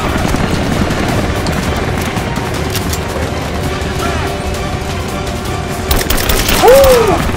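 Gunfire in the Tomb Raider video game during a prison break, a dense continuous barrage of shots with booming impacts under a game soundscape; a voice talks over it, and a sharp rising whoosh cuts in near the end.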